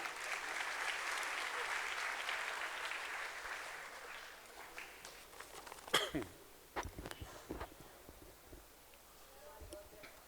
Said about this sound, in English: a huge round of applause to welcome Dr. Vijay Mehta